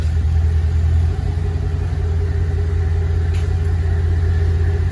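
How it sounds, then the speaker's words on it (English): A 2009 Pontiac G8 runs steadily close by, its engine giving a loud, low, even drone with only slight changes in pitch and no talk. "Just gonna go through the gears."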